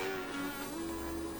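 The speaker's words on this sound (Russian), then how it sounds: "Даже пчела слетается, как намет на эту тачку." A bee buzzes close by around a Toyota bB Scion car, a faint steady droning hum with a slight shift in pitch as it moves.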